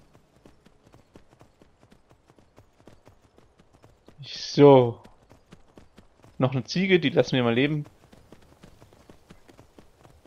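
Horse hoofbeats while riding in Skyrim, a faint soft patter running quietly throughout beneath someone speaking German in two short bursts.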